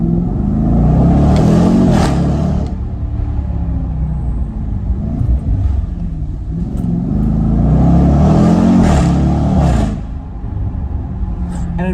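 Jaguar F-PACE SVR in dynamic mode revving loudly at low road speed, two swelling bursts of engine roar and rumble with a steadier drone between them, close and dominant throughout.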